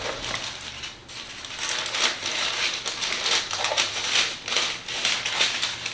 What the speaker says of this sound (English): you want to cut along the line so that you have 4 pieces of paper.